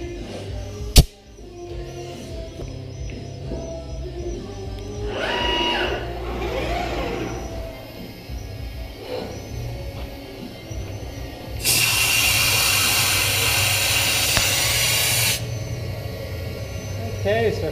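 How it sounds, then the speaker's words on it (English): A retrofitted Matsuura Mach3 CNC mill engraves lettering into a piece of aluminum with no coolant running, giving a steady mechanical whir with intermittent whines and clicks, a sharp snap near the start and a loud hissing burst partway through. "All we're gonna do is engrave the words Matsuura Mach3 right on this piece of aluminum."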